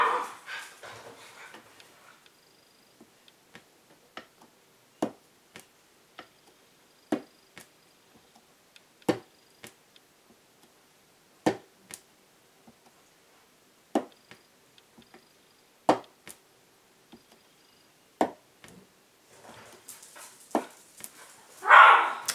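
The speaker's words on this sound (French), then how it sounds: "Vous allez entendre mes chiens" Sharp dog barks ring out one at a time at irregular intervals over about twenty seconds, fairly close, with short quiet gaps and no talking.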